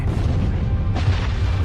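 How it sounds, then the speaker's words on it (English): A colossal supernova star explosion rendered as a deep, continuous rumbling boom that holds steady and loud throughout, with a second swell of roaring noise partway through and no voices. "the rest of the star in a colossal explosion"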